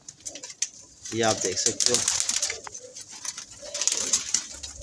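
Young Teddy breed pigeons of the same age coo in low, throaty rolls close by, with someone talking over them.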